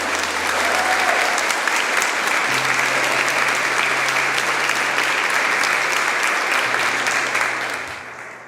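A church congregation applauds, dense and loud clapping sustained for several seconds with a low hum underneath, tapering off at the end.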